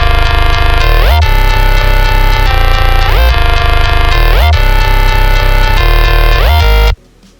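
A loud, buzzy synth bass pattern made in Harmor, with rich added harmonics from a harmonizer, repeats in steady phrases for about seven seconds, then cuts off abruptly into near silence.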